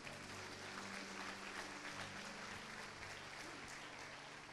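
A church congregation applauds at a worship service, a steady wash of many hands clapping, fairly faint and distant, continuing evenly without voices.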